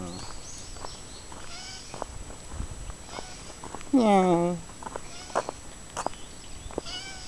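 A frightened cat gives one loud, strained meow with a rising, wavering tone at close range, set among sparse quiet murmured talk and faint rustling.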